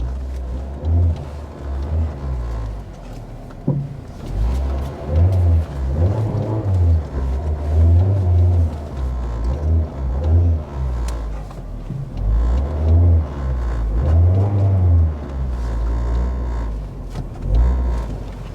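A car engine rumbles low and steady as the car reverses. The hum swells and eases in waves throughout.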